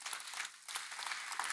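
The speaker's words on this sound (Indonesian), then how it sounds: "Tepuk tangan yang keras." A church congregation applauds, a dense, continuous patter of many hands clapping together at a steady, fairly distant level without any voices on top.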